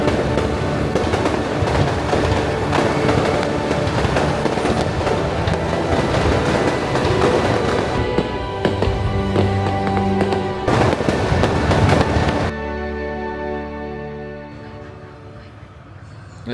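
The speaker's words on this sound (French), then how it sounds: "Feu d'artifice." Fireworks at a Vietnam national day celebration crackle and pop in loud, dense, continuous bursts that thin out and fade near the end.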